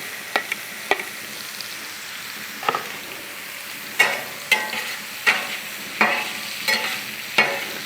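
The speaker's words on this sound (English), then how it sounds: "And then we'll get some garlic in. Because we want it to have a chance to brown" Garlic frying on a Blackstone griddle, a soft continuous sizzle punctuated by a series of sharp spatula scrapes and taps against the flat-top, roughly one every second in the second half.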